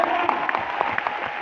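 Applause from a crowd of distributors at a product marketing event, moderately distant and fairly faint, with a few sharper individual claps standing out over the steady clapping.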